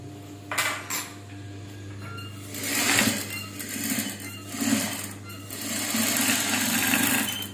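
A tailoring sewing machine stitches a blouse in short bursts of rapid mechanical clatter, with a steady low motor hum running underneath throughout.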